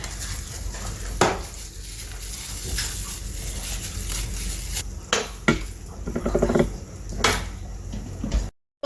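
Oha soup with cocoyam being stirred in a pot, a spoon scraping and clinking against the metal in scattered knocks and soft sloshing, fairly close and steady throughout with no talking.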